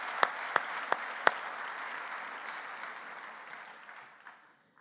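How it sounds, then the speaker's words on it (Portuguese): Audience at the opening session of a Portuguese psychologists' congress applauds an orchestra, starting with a few sharp individual claps before settling into steady, moderately distant applause that gradually fades out. "E para elas peço uma vez mais uma salva de palmas."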